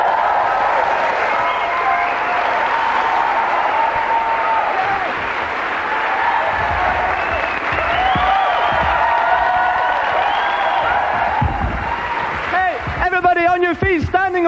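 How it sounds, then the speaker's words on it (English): A comedy club crowd at the Edinburgh festival applauds and cheers with sustained loud clapping and occasional whoops, while a voice talks over the noise near the end. "ovation, yes! Clapping,"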